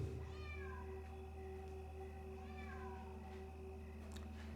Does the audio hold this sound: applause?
no